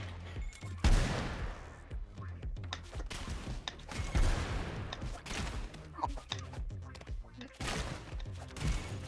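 Rail gun fire in the video game ROUNDS: loud, dense bursts of rapid shots and impacts recurring throughout, layered with busy game effects and faint background chatter.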